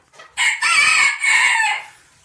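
A single loud crow from a Ko Shamo rooster, close up, rising and holding for about a second and a half before trailing off.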